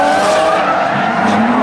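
Drift cars from the Falken drift team skid through a show demonstration at an expo, tires squealing loudly in a sustained, close screech over engine noise.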